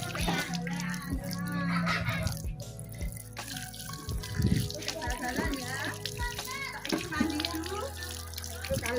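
Water is poured over an Aolon GTR mini smartwatch, with running, splashing and trickling from a tap-like stream and a few drips, while a voice talks nearby.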